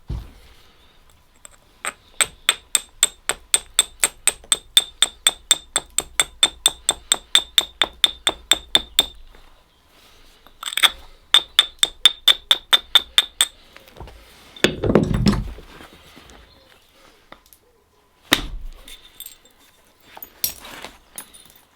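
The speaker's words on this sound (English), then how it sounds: "With this big soft hammer, when it gets a good quality contact on the edge, there's so much weight dropping in." Stone is struck over and over with a big soft hammer during flint knapping to work a dagger, giving bright clinking taps in quick, even runs. Two long bursts are followed by a few scattered louder knocks and scrapes, close by, with no talk.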